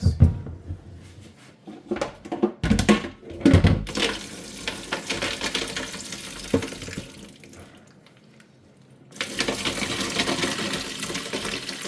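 Dirty wash water from ogbolor seeds poured off into a sink, a close running, splashing flow with some clatter early on, easing briefly before pouring steadily again.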